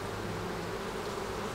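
Honeybees crawling over a hive frame at an apiary in Québec make a steady, dense, close buzzing hum that holds evenly throughout, with no talking over it.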